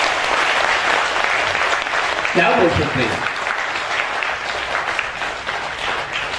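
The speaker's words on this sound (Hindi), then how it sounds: "तालियां बजाएंगे हम दोनों का।" An audience applauds at a Hindi-language meditation gathering, a broad steady clapping that runs throughout, while someone speaks briefly over it partway through.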